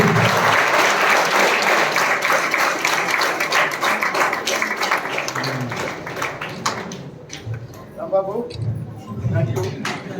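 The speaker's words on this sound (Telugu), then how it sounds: "క్లాప్స్ కొట్టున్నాం అందరూ గట్టిగా ఒకసారి." An audience claps loudly at a birthday cake-cutting event held by an MLA. The dense applause gradually thins out, and voices and scattered claps take over toward the end.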